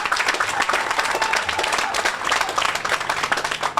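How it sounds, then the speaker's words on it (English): An audience at a Veterans Day remembrance in Manatee County gives a round of applause, a full, steady wash of clapping from a crowd that carries on without pause. "let's give that a round of applause"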